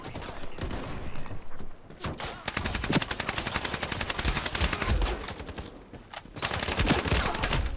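Rapid, loud, repeated gunfire in the shooter Ironsight, shotgun blasts spammed in quick succession with brief pauses between volleys, close and dominant throughout.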